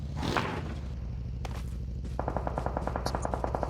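Rapid automatic gunfire in PUBG Mobile, a steady burst of evenly spaced shots at moderate distance, preceded by a whooshing rush and a single sharp crack.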